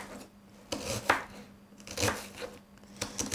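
Knife chopping onion on a board, a handful of crisp, uneven cuts with short pauses between them, fairly close and quiet, no talking over the strokes.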